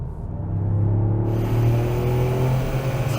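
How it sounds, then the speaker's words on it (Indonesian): The three-cylinder engine of a 2022 Toyota GR Yaris revs and pulls steadily from inside the cabin, a loud low hum rising slightly in pitch and holding, no talking. "Ini suara mesin 3 silinder terenak yang pernah saya dengar."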